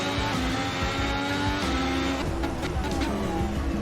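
Formula 1 car in a racing video game downshifting one gear to fifth on the approach to a corner, the engine note dropping and blipping with a brief rasp as revs shift, loud and close on the onboard view.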